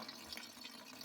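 Filtered rainwater runs steadily from a spigot on a farm, a soft continuous trickle and splash with faint dripping, quiet and close, with no talk.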